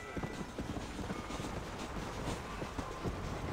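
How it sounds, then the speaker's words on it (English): A train passes in the video game Red Dead Redemption: a continuous rumbling roar with rapid rhythmic clacking of wheels, fairly close and steady throughout. "There's a train coming."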